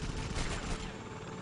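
Rapid gunfire from the Lego Batman video game, a dense, continuous burst of shots filling the short moment at steady loudness with no talk over it.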